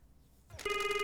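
A telephone starts ringing in a video game, a steady electronic ringtone that cuts in sharply after a quiet moment and continues alone, close and clear.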